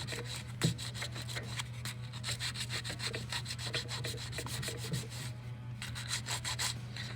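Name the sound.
sanding a ring with 220 grit sandpaper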